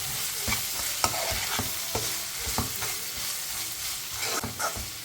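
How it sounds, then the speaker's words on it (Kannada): Bitter gourd with peanut powder and chopped coriander frying in a pan, a steady soft sizzle with intermittent stirring scrapes, close and fairly quiet, no talking. "ಈಗ ಇದೆಲ್ಲ ಫ್ರೈ ಮಾಡಿ"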